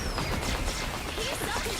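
Explosives go off in a video game as a dense, loud barrage of crashing blasts and rapid bangs, with a voice talking in the mix.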